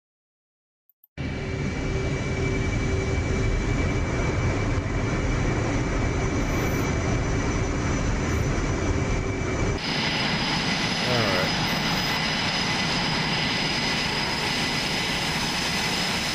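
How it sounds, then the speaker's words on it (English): E/A-18G Growler jet engine roaring on the tarmac in the DCS combat flight game, a loud steady drone that starts abruptly after a brief silence, with a whining tone that shifts partway through and holds constant to the end. "I'm going to talk a little bit louder over the jet, because it is a little louder from the outside."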